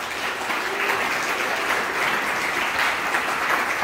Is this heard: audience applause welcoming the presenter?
yes